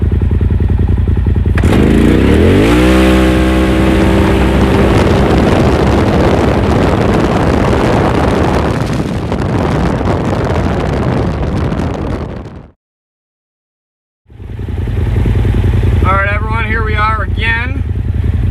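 A 2021 Polaris RZR XP Turbo with a Trinity exhaust and aftermarket clutch kit drives on grass in four-wheel drive. Its loud engine roars and climbs steadily, cuts out abruptly into silence, then returns revving hard.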